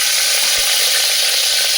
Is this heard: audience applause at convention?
no